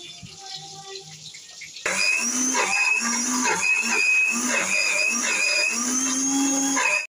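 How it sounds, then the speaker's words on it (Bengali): A kitchen mixer grinder blends ginger, garlic and green chilli into a paste, switching on abruptly after a quieter start and then whirring loudly and steadily with a pulsing low churn until it cuts off. "এই যে আদা রসুন কাঁচা লঙ্কা সব একসাথে পেস্ট করে রেখে দিচ্ছি"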